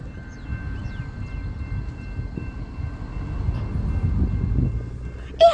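Two BNSF yard locomotives switch back into a rail yard, operated by remote control, a steady low rumble of diesel engines and rolling cars at moderate distance, with a brief horn note right at the end.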